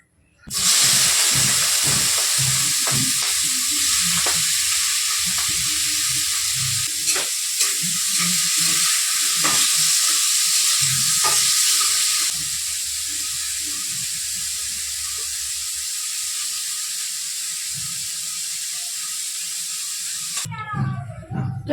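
Oil sizzles loudly and steadily in a kadai after prawns have been fried in it, a dense close hiss with scattered clicks and scraping that drops slightly in level partway through and cuts off near the end.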